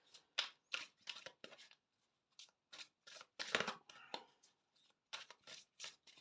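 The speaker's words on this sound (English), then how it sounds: "I think I've shuffled them enough." Tarot cards being shuffled by hand, a series of crisp riffling and slapping bursts in uneven rhythm with short pauses between, close and quiet, with no talking over them.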